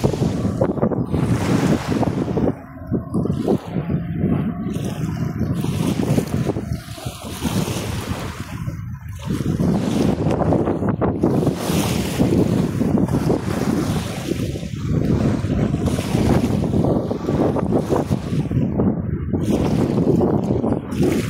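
Waves wash continuously against the shore near Kuwait City, loud and close, with gusts of wind buffeting the microphone throughout.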